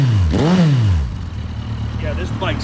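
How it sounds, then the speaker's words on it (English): A 2016 Suzuki Bandit 1250 S ABS motorcycle's exhaust swells in one sharp, close rev that rises and falls within a second, then settles back to a rumbling idle, with faint voices toward the end. "Let's go ahead and listen to this awesome exhaust."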